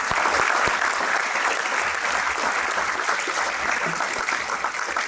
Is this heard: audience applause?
yes